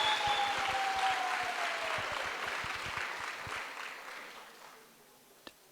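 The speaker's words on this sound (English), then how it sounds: "And so a round of applause for all of you to pull this off." A crowd applauds steadily, the clapping dense at first and then thinning and fading out over several seconds.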